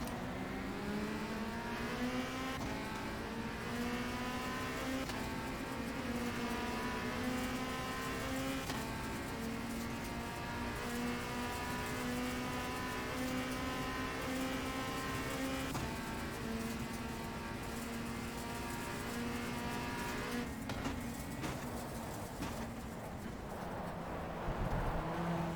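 A touring race car in the WTCC racing game at Monza, Italy, drones loudly and continuously as the engine revs through rising and falling gear changes, with brief dips where it shifts.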